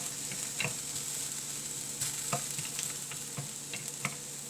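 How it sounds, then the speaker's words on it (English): Peanuts frying in a pan for a tofu kofta gravy, giving a quiet steady sizzle broken by soft scrapes and light clinks of stirring, faint and close, with no voices. "So one thing I have forgot here in the gravy, that is the peanuts. So I'm just frying it now."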